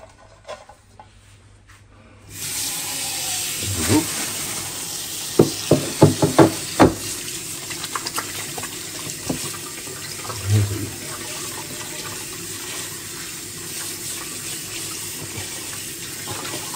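Dried octopus being rinsed in water in a pot for a Rodrigues Island dish, with water splashing and sloshing, followed by irregular close knocks and swishes of handling, no talk.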